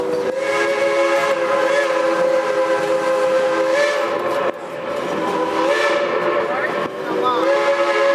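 Steam whistle on the Georgetown Loop Railroad train blows loud, sustained blasts at a road crossing, with brief breaks between the long tones.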